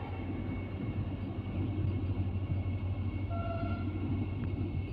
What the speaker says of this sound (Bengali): খুব স্লোলি ট্রেনটি কিন্তু যাচ্ছে, নিকুঞ্জবিহার থেকে ছেড়ে দিয়েছে